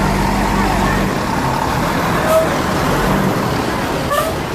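Buses pulling into a bus terminal, a dense rumble of diesel engines and road traffic with a low idling drone at first and a couple of faint horn toots, loud and close.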